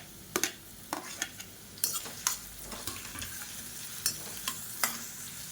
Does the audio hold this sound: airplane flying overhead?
no